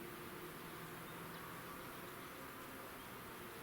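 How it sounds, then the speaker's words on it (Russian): A Buran snowmobile engine drones far away across a winter landscape in February, a faint, steady, insect-like buzz under wind noise and heard alone. "Вот слышно, буран жужжит."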